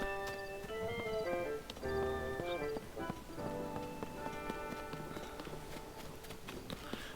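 Horse hooves clip-clop in The Legend of Zelda: Tears of the Kingdom, a steady run of light hoofbeats under the game's melodic background music.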